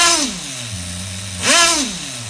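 On a tuning bench, the nitro engine of an HPI RS4 Nitro F150 RC car is blipped twice. Each time a sharp rev climbs and falls back to a steady, buzzy idle, close and loud with no talk.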